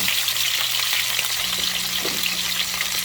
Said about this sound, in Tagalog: Magprito po tayo ng daing na bangot.